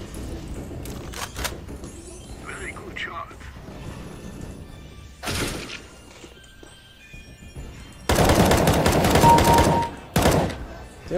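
Gunfire from a video game weapon comes in scattered sharp cracks and short bursts, with one long, loud volley near the end, all mixed with game effects and occasional talk.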